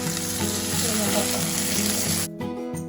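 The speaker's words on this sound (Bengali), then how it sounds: "পেঁয়াজটা একটু লাল করে ভেজে নেব।" Sliced onions fry in a pan for a cabbage and fish head dish, giving a dense, steady sizzle that stays loud and close before briefly dropping away near the end.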